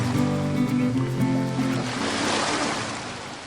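Surf washing onto a beach in Goa, a steady broadband wash of breaking waves with a low rumble, continuous and fairly close for the whole stretch, with no voices.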